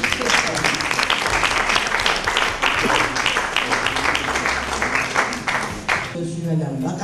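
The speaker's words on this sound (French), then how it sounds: "Et on va l'applaudir et te remercier très fort." An audience claps in steady, dense applause throughout, honouring a woman at a Super Mamie event, with the clapping thinning slightly near the end.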